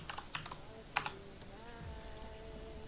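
Quick bursts of keystrokes tapped on a computer keyboard during an online game tournament, close and quiet, a few clustered clicks early on, then trailing off into soft steady background hum.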